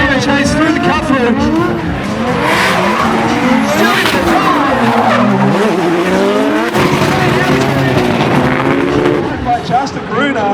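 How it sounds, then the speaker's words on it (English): Race cars skid and squeal on track with front wheels locking up on both cars, engines howling and pitch sweeping loudly and continuously up close, tires screeching through the run. "Front wheel lockups by both cars."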